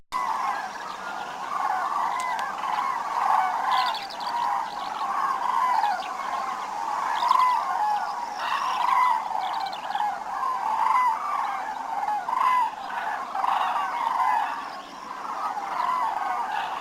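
A flock of migrating cranes wintering in Iberia calls continuously, a dense chorus of overlapping, fairly distant bugling cries that carries on without a break.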